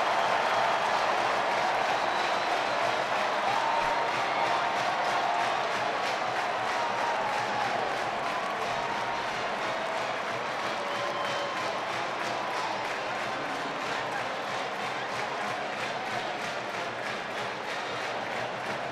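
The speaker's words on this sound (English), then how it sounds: "And sends this Kohl Center crowd into a frenzy." College hockey crowd at the Kohl Center erupts after Wisconsin wins a shootout against Minnesota, with sustained loud cheering and dense applause that stays at full strength throughout.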